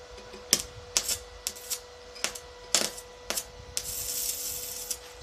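PocWeld welder at minimum current, the arc being struck on standard leads: a series of sharp crackling snaps at irregular intervals, then a brief sustained hiss, close and without talk.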